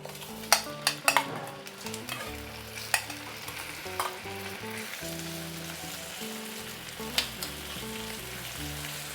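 Prawns frying in oil in a wok give a steady crackling sizzle, with a few sharp clinks and scrapes of utensils against the metal near the start and again later; no one speaks.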